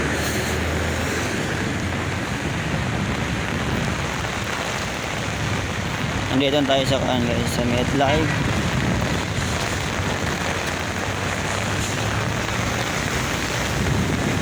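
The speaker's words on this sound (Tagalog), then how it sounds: "Lakas ng hangin galing sa dagat guys oh." Strong monsoon wind off the sea drives heavy rain in a loud, constant roar that buffets close by, and someone talks over the storm throughout.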